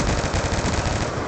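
Rapid, loud automatic gunfire from a video game shooter, a dense burst of machine-gun shots close up.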